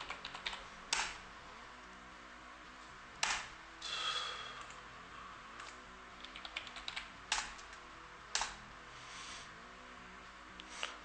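Computer keyboard typing a password during Linux setup, a few soft scattered keystrokes and sharper taps spread over a quiet background, close and faint, no talk.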